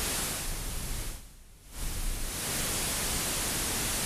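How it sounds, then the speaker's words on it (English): Steady broadband hiss of the noise generator on a Behringer 2600 synthesizer, briefly dipping quieter in the middle before returning to full level. "finally, we have the noise generator"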